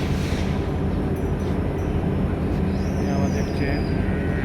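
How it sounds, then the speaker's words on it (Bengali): A train rumbles loudly and steadily at Dinajpur railway station in Bangladesh, with a brief thin metallic squeal rising over the roar partway through. "আমাদের ট্রেন।"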